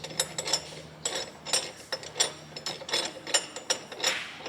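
A crank pulley puller is threaded into the crank bolt of a 1999 Lexus SC300 with a 2JZ-GE engine, producing close, rhythmic metallic ratcheting clicks in quick repeated bursts.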